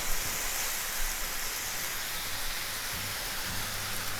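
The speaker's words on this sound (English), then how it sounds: "you get to hear the sizzle of the bacon, right?" Steady, dense crackling hiss of bacon sizzling in a frying pan, constant and fairly loud throughout with no voices.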